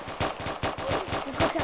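Rapid gunfire from a gun in the Roblox video game, a quick regular burst of about eight sharp shots in under two seconds, loud and close with no talk.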